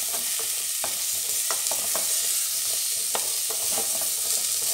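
Food sizzling steadily in a pan as it turns lightly golden, a loud continuous hiss close by with scattered scraping and stirring taps throughout.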